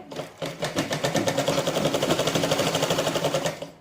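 Sewing machine stitching the sleeves onto a blouse, a fast rhythmic whirring run of about three seconds, close and steady, with no voices.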